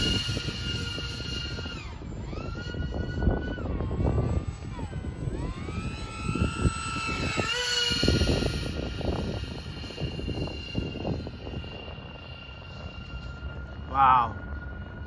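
A modded FT Spear radio-controlled model airplane in flight, its electric motor whining and sweeping up and down in pitch as it passes, with a person talking over it throughout.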